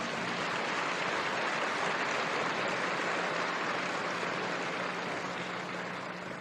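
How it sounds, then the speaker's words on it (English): A large audience at the 1997 Berkshire Hathaway annual shareholder meeting applauds in a dense, sustained roar of clapping that holds steady before tapering slightly at the end. "Give them a lot of applause,"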